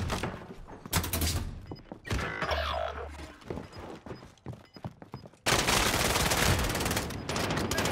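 Sustained automatic gunfire in the battle royale game Call of Duty Warzone, bursts of rapid shots with mechanical clanks in between, ending in a loud continuous stretch of fire.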